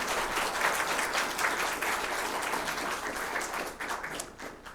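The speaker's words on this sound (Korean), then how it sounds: "우리 찬양대를 위해서 뜨거운 박수 좀 한번 부탁드립니다" A church congregation at a Sunday worship service in Seoul claps warmly for the choir, steady applause from a crowd filling the room, slowly thinning toward the end.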